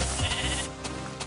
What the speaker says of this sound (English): Another sheep. I heard another one.